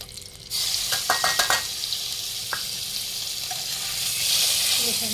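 Fish roe, going into a hot pan while hilsa is cooked for a banana-leaf bhapa, meets a close, bright sizzle that holds steady, with a few quick clinks of utensils near the start.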